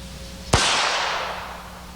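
A single sharp pistol shot from a gun fitted with a Kimber conversion unit, a loud close crack followed by a long fading outdoor echo.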